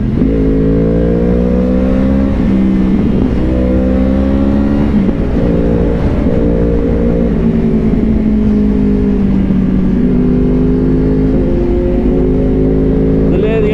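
Yamaha R1 2014 motorcycle fitted with an Akrapovic carbon slip-on exhaust, a loud close engine note rising and falling as it revs and shifts, with a voice talking over it.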